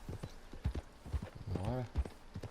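Horse hooves clopping in Red Dead Redemption 2, a few close, evenly paced hoof beats under someone talking.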